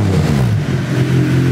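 A Honda EG hatchback with a 400hp K20/K24 swap and nitrous setup revs hard, its raspy exhaust loud and close with a steady, throaty drone and rising pitch sweeps that continue without a break.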